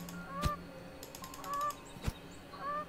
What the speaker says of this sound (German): es gibt Gänse